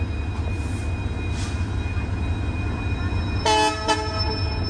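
The Deccan Nampally Express and its locomotive rumble steadily on the track, with two short horn toots sounding near the end over the constant rolling noise.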